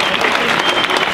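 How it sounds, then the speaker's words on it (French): Audience applause at a political rally in France, a dense, steady patter of many hands clapping throughout, loud and close with faint crowd noise mixed in. "Et comme vous savez, Émilie Marsh, que je vous demande d'applaudir."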